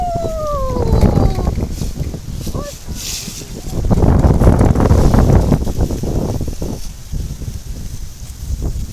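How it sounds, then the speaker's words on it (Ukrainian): Strong wind buffeting the microphone in loud, rumbling gusts that rise and fall throughout, with voices faintly underneath. "що вітер дуже-дуже сильний."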